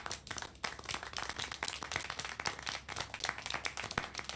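Clapping in the video game Syberia: a quick run of sharp, distinct handclaps at an irregular rhythm, close and fairly loud with no talking over them.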